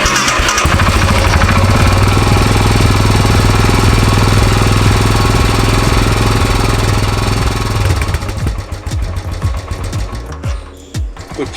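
Royal Enfield Himalayan motorcycle engine idling loudly and steadily with a close, rapid thumping rhythm for about eight seconds, then revving unevenly and settling as the sound becomes choppier.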